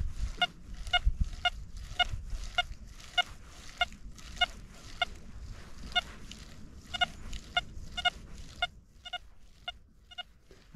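Repeated short high beeps from an XP Deus 2 metal detector in General mode, detecting a small target 14 cm deep, sound in a steady rhythm over low ground-scraping rumble, fairly faint, with no talking.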